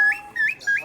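Three short rising whistled chirps, bird-like echoes at the Chichen Itza Mayan ruins, in quick succession with brief gaps between them, clear and fairly close.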